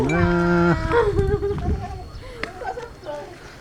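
A water buffalo gives a long, deep, close lowing call at a farm, followed by quieter grunting and people talking in the background.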